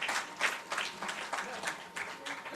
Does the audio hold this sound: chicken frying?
no